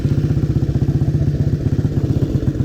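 A 1920s TT racing motorcycle with a hand throttle runs loud and close, its engine thumping in a fast, steady pulsing rhythm with a rough mechanical clatter throughout.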